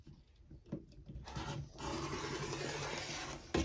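Quilt fabric pieces trimmed with a cutting tool, a steady close rasping and scraping that starts in short strokes and then runs as one continuous rub before ending in a sharper burst.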